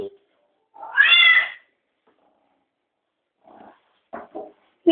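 A cat gives one clear, drawn-out meow close to the microphone, followed after a pause by a few shorter, softer cat vocalizations and sounds near the end.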